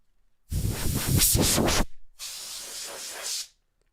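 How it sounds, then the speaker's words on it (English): A can of compressed-air cleaning duster sprays in two loud, steady hissing bursts, the first about a second and a half long, the second slightly softer, with a short gap between and silence after. "I bought cans of cleaning duster. These are really cool if your hands get too hot. You just spray this thing."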